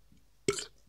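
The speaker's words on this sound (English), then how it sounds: "My first burp of coming back, so there you go." After drinking Kaztelan beer, a man lets out a single short, throaty burp close to the microphone, abrupt and brief against quiet background.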